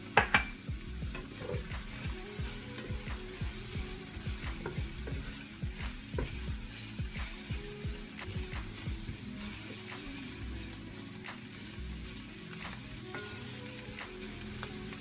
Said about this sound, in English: my chili peppers and my red peppers and carrots have sauteed an extra 2 minutes